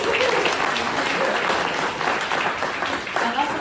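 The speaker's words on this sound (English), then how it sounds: "let's give them a little round of applause." Dense, steady applause from an audience at a community speaker event on the state of the bays, a broad wash of clapping filling the room without pause, with faint voices mixed in underneath.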